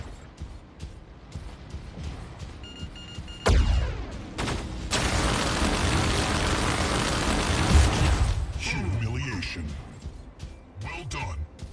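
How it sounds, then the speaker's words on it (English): Gunfire and explosions in the Mech Arena video game, with a sudden loud blast followed by several seconds of sustained roaring fire and then scattered bursts, while a game announcer voice speaks. "Incoming fire."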